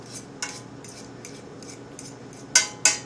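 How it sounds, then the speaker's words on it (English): A fork mashing food lightly in a hot pan for gluten-free pizza, making a series of metallic taps and scrapes at an uneven pace, ending in two louder clinks, with no voices. "Then I just take a fork and mash it lightly."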